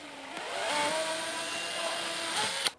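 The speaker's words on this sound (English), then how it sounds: "We're going to drill this thing out real quick" A power drill whirs steadily at close range for a few seconds, drilling out a hole in a coping sled, its motor pitch shifting slightly under load before stopping abruptly.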